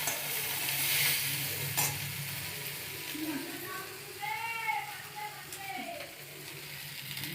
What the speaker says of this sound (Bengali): এবার ভালো করে মিক্স করে নেব।